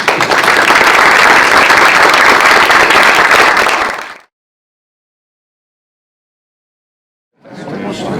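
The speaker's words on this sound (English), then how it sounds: "Thank you very much. A round of applause." Loud, dense audience applause at a mining business lunch conference, clapping steadily for about four seconds before cutting off abruptly, then resuming briefly near the end.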